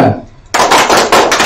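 A group claps in a rhythmic pattern during a village digital-innovation training session, sharp loud bursts of hand claps starting after a short quiet, close and dense, repeated in short grouped volleys.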